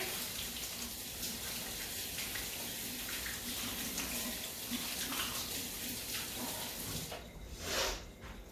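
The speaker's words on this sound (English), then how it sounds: "I'm gonna wash my hands real fast." A home kitchen tap runs while hands are washed clean of onion, a steady close splash of water that changes tone near the end as the flow shifts, with no speech.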